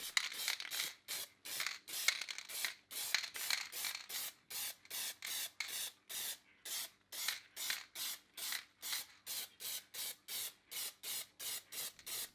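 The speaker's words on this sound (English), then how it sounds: "A few light coats of black satin spray paint are used." Repeated short bursts of black satin aerosol spray paint on a laser-cut race track, about two per second, each hiss crisp and close with brief silent gaps between them.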